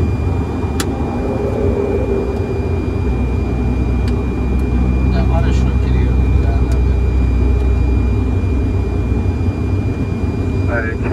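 Cockpit of a Fokker F100 landing at night with the landing gear down, filled with a loud, steady low engine and airflow roar, with faint clicks and tones over it.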